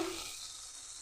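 Mustard paste with slit green chilies sautés in a pan for pabda fish jhal, making a brief, close, steady sizzle with no talking.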